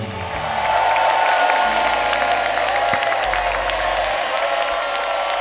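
Television studio audience applauding the four panelists on a talent show: sustained, even clapping and crowd noise throughout, fairly loud and continuous.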